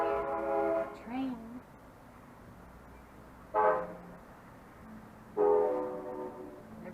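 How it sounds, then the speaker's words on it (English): A train passes somewhere outside a room; the horn sounds in three separate blasts, a long one at the start and two shorter ones later, each clear over a steady low rumble. "Train."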